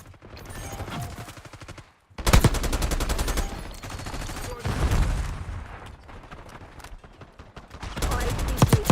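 Video game gunfire, with loud, rapid automatic bursts and clustered shots filling most of the stretch after a brief pause, alongside occasional voice callouts.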